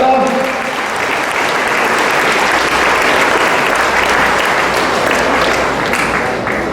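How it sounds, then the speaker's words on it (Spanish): A church congregation at Sunday Mass applauds a candidate from Costa Brava with loud, steady clapping that fills the space for several seconds without pause. "Un aplauso a nuestra hermana candidata."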